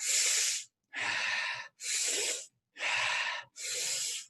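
Strong, fast breathing-exercise inhales, five forceful breaths through the nose in a steady rhythm with short gaps between them, close and clear, with no talking.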